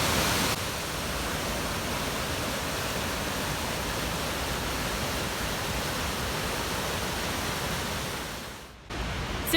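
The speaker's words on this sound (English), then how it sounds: "So we just passed the Coralin Falls, which were beautiful, bigger than I thought they were going to be actually." Corra Linn on the Falls of Clyde in Scotland, heard as a constant, loud, broadband roar of falling water that continues steadily, briefly dipping near the end.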